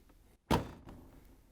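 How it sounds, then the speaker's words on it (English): A washer door on a GE appliance shuts with one solid thunk after a brief silence. The impact sounds close, and a faint rattle trails off just after it. "Once you have it on, we can close the washer door."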